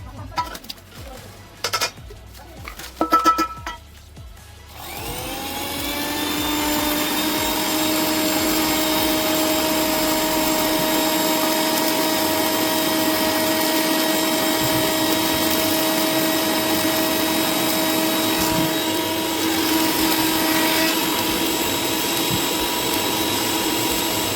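A mixer grinder whirs into a loud, steady high-pitched grind while making homemade protein powder, after a few opening clinks and knocks of the jar being handled, and runs continuously to the end.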